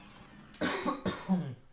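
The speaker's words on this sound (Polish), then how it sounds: "Zauważyłem, że kaszle chyba na początku każdego losowania kostki lub na pokonaniu bossa." Two short, close coughs from a character in the video game Cuphead, in quick succession, the second trailing into a throaty rasp, over a quiet background.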